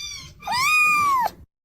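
A single high, drawn-out kitten meow, close and clear, rising then falling over about a second, alone with no talk.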